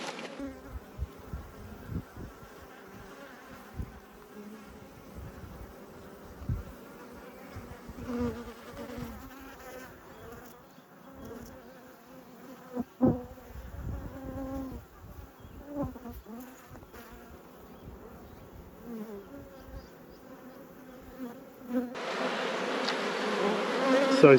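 Honeybees buzz around an opened beehive crammed with fresh comb in an apiary, a constant close hum with scattered handling knocks and rustles, growing louder and busier toward the end.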